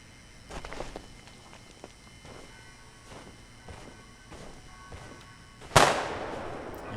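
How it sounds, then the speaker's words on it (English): An enemy in the game Mundaun fires at a snowman: several faint, distant shots pop at irregular intervals, then one sharp, loud blast rings out near the end and trails off slowly. "Yep, that's him firing at the snowman"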